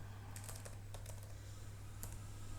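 Quiet, close computer keyboard typing while entering VBA code in a form script: short bursts of key clicks in irregular clusters over a steady low electrical hum, with no voices.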